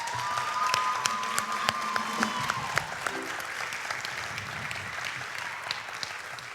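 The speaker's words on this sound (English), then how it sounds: "How about a round of applause for these guys?" An audience at a high school jazz night applauds with loud, steady clapping that fills the room for several seconds, with a few voices and cheers mixed in.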